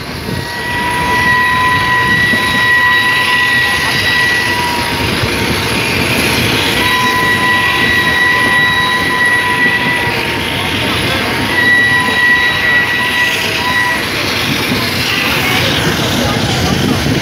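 A steam locomotive runs alongside a Red Line electric train, giving a loud, steady rumbling roar with faint sustained whistling tones that drift in and out over seventeen seconds.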